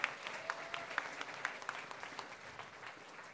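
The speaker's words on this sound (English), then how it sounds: "Let's give them a hand." Audience applause for school staff at a Christian school spring concert, a thin, fairly quiet patter of claps with a few distinct sharper claps standing out, steady through the short stretch.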